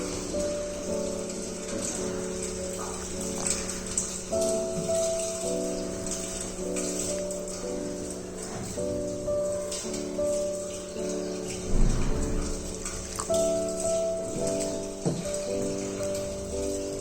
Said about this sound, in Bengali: এবার আমি একটু একটু করে জল অ্যাড করব আর ময়দাটা মাখতে শুরু করব।